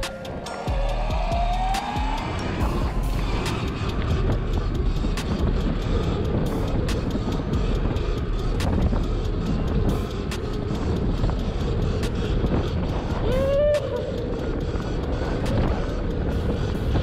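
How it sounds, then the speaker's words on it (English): A 72-volt Sur Ron BAC4000 electric dirt bike rides along outdoors with continuous rolling and wind noise, a rising motor whine building in pitch now and then, heard from on board without talk. "Great day to be out on the Sur Ron. I'm gonna go for a quick joyride to get all warmed up"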